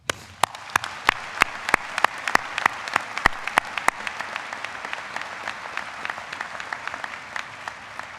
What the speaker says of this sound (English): Will you join me in a big round of applause for our graduates?